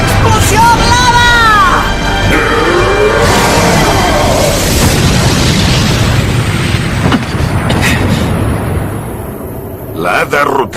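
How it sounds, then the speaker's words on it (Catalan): A blue explosion attack from the Blue Dragon anime, dubbed in Catalan, erupts as a loud, sustained rumbling boom with crackling bursts that fills the scene and fades away toward the end. "Explosió blava!"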